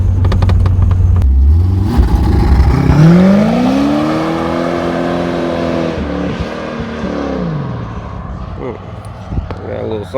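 Carbureted engine of a 1986 C4 Corvette running loud and close, its idle rising into a swelling rev that holds steady and then settles back to a rough, uneven idle.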